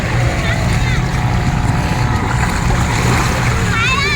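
Motorboat towing a banana boat off Bang Saen beach in Chonburi, engine droning steadily with wind buffeting and waves splashing, voices chattering over the noise.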